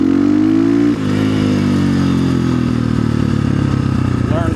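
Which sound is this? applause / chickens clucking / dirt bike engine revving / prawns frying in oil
dirt bike engine revving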